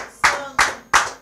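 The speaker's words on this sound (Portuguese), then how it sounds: "Aplauda ao Senhor, aplaude, aplaude" Three loud, sharp claps in slow even rhythm from a church congregation clapping in praise during a Portuguese worship celebration, close and without talk.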